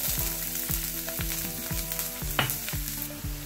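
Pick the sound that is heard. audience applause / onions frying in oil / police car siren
onions frying in oil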